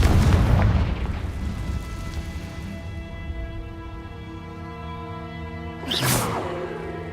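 A Confringo blasting spell exploding in Hogwarts Legacy, a loud booming burst at the start that rolls away under a humming tone, then a second sharp impact near the end.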